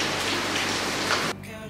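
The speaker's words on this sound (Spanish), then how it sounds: "Sigue lloviendo" Rain pours down steadily in Canggu, Bali, a dense close hiss that suddenly drops to a quieter patter near the end.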